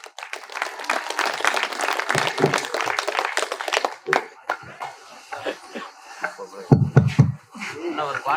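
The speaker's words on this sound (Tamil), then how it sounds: "நல்ல ஒரு கைதட்டு கொடுங்க" Applause greets a speaker at a Tamil debate event for a Vinayagar Chaturthi special, a burst of many hands clapping for about four seconds, then scattered sounds and a voice speaking.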